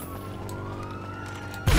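A wailing police siren in Gran Turismo 5 sweeps steadily, with a sudden loud burst cutting in at the end.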